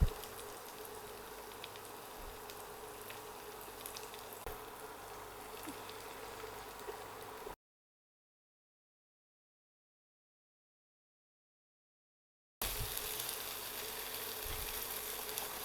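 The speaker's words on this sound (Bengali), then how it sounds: "এই সাইড দিয়ে একটু খাবার তেল দিয়ে ডিমটা ভেজে নিব" An egg fries in cooking oil in a pan beside vegetables for Chinese fried rice, giving a faint, steady hiss of sizzling oil that cuts out briefly midway before resuming.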